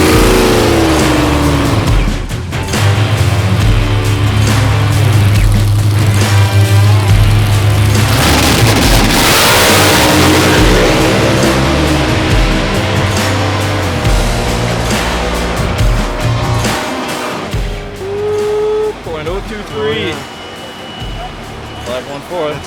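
A drag race car launches hard on its second run and accelerates away with a loud, rising engine roar that fades into the distance, while people talk nearby.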